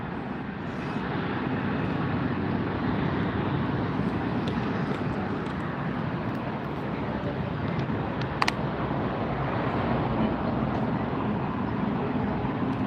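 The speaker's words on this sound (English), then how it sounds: "There goes a departure on the far side, the south side." An airplane departing on the far south runways at LAX airport, a steady broad jet engine roar that holds at a constant level with no clear peaks, distant and heard alone.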